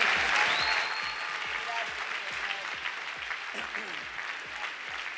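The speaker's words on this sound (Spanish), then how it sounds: "Denle un aplauso al Señor" A church congregation at a special Christmas service claps steadily and densely throughout, a loud, sustained wash of hands with a voice briefly audible over it.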